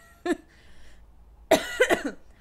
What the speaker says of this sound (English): I still have that, like, persistent cough